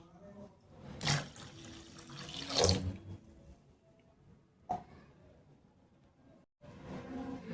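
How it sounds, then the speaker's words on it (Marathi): Water pours onto rinsed oats in a bowl to soak them for dosa batter, in two short splashing bursts followed by a brief third splash, close by with quiet gaps in between. "हे भिजण्यासाठी पाणी घालूयात"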